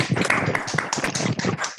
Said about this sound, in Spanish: si pueden abrir sus micrófonos y brindarle un aplauso sonoro a Eugenia.